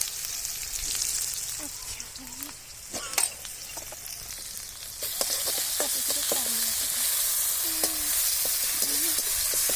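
A paste of crushed garlic, green chili and cumin frying in a hot pan, sizzling steadily and growing louder partway through, with light clinks of stirring.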